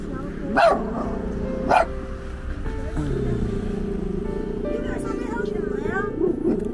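Two lost puppies hiding under a car after being frightened by Chinese New Year firecrackers give two sharp, close barks early on, followed by softer yips and whimpers, while people talk nearby.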